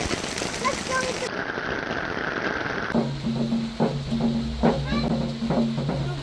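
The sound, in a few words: heavy rain falling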